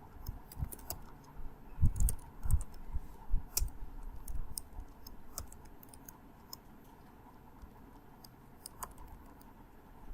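A computer keyboard clatters under fast, irregular typing, with bursts of close clicking keystrokes that thin into sparse taps toward the end.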